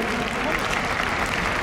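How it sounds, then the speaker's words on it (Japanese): Fans applaud at a Super GT 2020 GT500 championship award ceremony, a steady dense wash of clapping from a large crowd with a voice over it. "ファンの皆さん、どうぞ、拍手を一度お送りください。"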